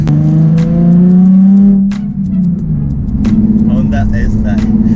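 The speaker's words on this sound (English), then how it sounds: "listen to the exhaust" A Honda car engine revs hard with a loud, raspy exhaust roar, then drops and rumbles unevenly, with voices and crackle mixed in.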